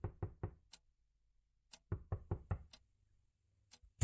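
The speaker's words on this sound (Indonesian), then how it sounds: "terdengar suara orang yang mengetuk pintu depan rumahku ini" Knuckles rap on a house's front door in quick sets of three, pause, then three more, plus a few lighter taps, crisp and close in an otherwise silent room.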